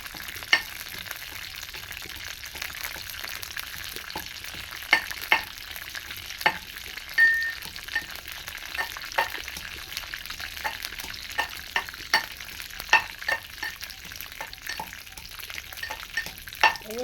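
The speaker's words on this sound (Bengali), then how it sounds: "এই বাদামগুলো ভাজা হতে হতে" Peanuts frying in a pan for singara filling, a soft continuous sizzle broken by frequent sharp clicks and scrapes of stirring, moderately close with no talking.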